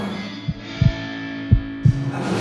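Heartbeat sound effect used to signal nervousness in a comedy TV film, four low thumps in two lub-dub pairs over a steady hum, with no talking.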